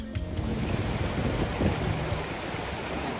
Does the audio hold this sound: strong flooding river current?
yes